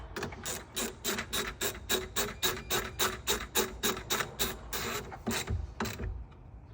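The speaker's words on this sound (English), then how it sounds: "I'm gonna grab about 13mm, and now I'm gonna use actually a wrench for this" A 13mm wrench tightens a battery terminal on a BMW X5, clicking in a steady, rapid ratcheting rhythm of about two dozen close, crisp ticks, then slowing and stopping.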